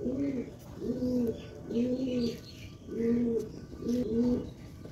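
Fantail pigeons coo close by in a slow rhythmic series of five soft, throaty calls, evenly spaced over a few seconds against faint background noise.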